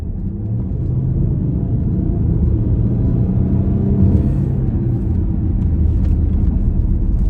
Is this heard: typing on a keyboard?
no